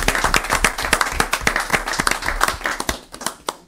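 An audience at a church broadcast applauding in praise of the Lord, brisk rhythmic group clapping, close and steady, fading toward the end.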